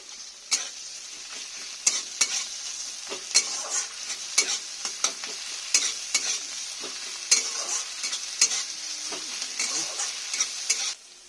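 Ginger fries in a pan with a steady, quiet sizzle, broken by sharp, irregular scrapes and taps of a spoon stirring it. No one talks.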